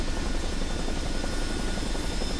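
A CH-47D Chinook's tandem rotors in Microsoft Flight Simulator 2024 roar as a loud, steady broadband wash with no pauses, close and continuous throughout.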